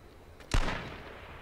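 A single sharp gunshot from the video game H1Z1 cracks out close and loud, then rings off in a fading tail, with no voices over it.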